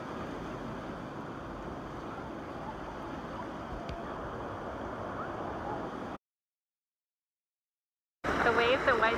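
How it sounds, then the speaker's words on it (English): Big surf rolling onto White Sands Beach on Hawaii's Big Island, swells up to ten feet, a steady close roar with wind buffeting the microphone, cutting to silence before a burst of louder noise returns at the end. "The waves at White Sand Beach today are insane"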